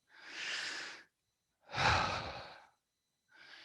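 A slow, deep breath in and out, close and audible, followed by the start of another breath, with no talking.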